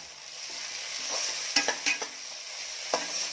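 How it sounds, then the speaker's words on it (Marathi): Tomatoes frying in a pan with browned onions for a Kolhapuri mutton curry, a soft steady sizzle under several scraping stirring strokes of a spoon, close and fairly quiet. "आता यामध्ये मी टाकत आहे टोमॅटो."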